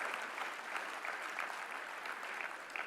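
An audience claps steadily at a speech by Prabowo, a dense, even patter of applause from a large indoor crowd heard moderately from a distance.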